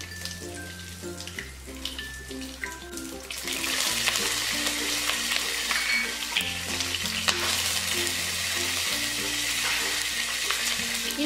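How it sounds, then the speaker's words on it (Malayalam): Dried red chillies, curry leaves and urad dal hit hot oil in a pan for upma, bursting into a loud, steady sizzle and crackle that keeps up close and unbroken after a quieter start. "അതൊന്ന് ചൂടാകുമ്പോഴേക്ക് ഈ എടുത്തു വെച്ചിരിക്കുന്ന വറ്റൽ മുളകും 2-3 തണ്ട് കറിവേപ്പിലയും കൂടി ഇതിലേക്ക് ഇട്ട് കൊടുക്കാം."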